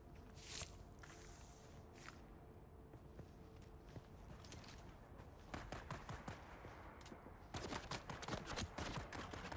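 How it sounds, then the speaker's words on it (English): Gunfire in the Dune Awakening video game: bursts of sharp shots crackle in quick succession, a few scattered early and then dense rapid volleys toward the end, over a constant low ambient wash. "Got bullets coming from out of the wall."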